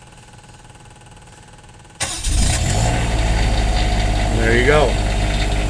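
The diesel engine of a 2020 Force 1 motorhome cranks briefly after quiet waiting, catches, and settles into a loud, steady close idle, with a short spoken remark over it.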